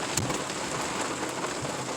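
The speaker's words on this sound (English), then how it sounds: "Yeah, it's raining." Steady rain pours down during a wind storm in Saginaw, Michigan, a dense, even hiss of drops hitting surfaces, with no voices.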